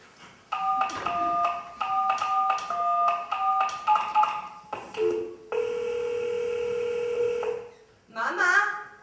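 A telephone number is dialed on a phone, a quick run of steady touch-tone beeps, followed by a long sustained tone and a short final electronic chirp, with a voice speaking briefly among them.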